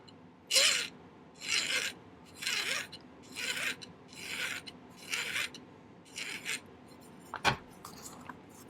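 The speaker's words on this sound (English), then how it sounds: "I'm going to file one of these corners flat" A metal file rasps against the corner of a small silver starfish pendant to flatten it. About seven even, rhythmic strokes play up close, followed by a sharp click.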